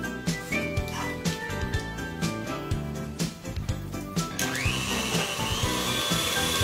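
An electric mixer beats cake batter for a simple sponge cake, a continuous close whirring drone with rhythmic knocking of beaters against the bowl and a rising pitch shift as the speed changes near the end.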